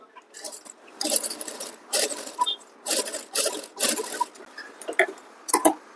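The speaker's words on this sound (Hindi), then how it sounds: "यहाँ पर हम दूसरी सिलाई लगाएंगे" A sewing machine runs a second line of stitching on a kurti's invisible back zip, working in several short bursts separated by brief pauses and small clicks, close and fairly quiet.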